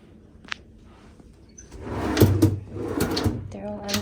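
A hotel room closet drawer slides open with a soft knock and a short rolling scrape, close by, followed by rustling handling noise, with a voice talking around it.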